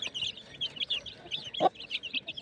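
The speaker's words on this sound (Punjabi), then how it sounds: "ਇੱਕ ਬੱਚਾ ਰਾਣੂ ਦਾ ਸਲੇਟੀ ਮੁਰਗੀ ਦਾ" A hen clucks in short bursts against a light farmyard background, with one louder cluck standing out near the middle.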